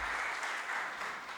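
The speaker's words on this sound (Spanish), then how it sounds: "Un aplauso para Bolívar, caramba, qué grande es Bolívar." Applause from an audience at a political talk on Bolívar, a short, dense, steady wash of clapping with no voices over it.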